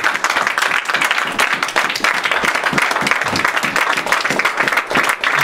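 A church congregation bursts into dense, sustained applause, many hands clapping together in a steady roar that fills the hall for the whole stretch, with no voice rising above it.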